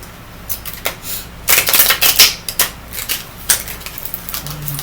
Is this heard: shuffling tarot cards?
yes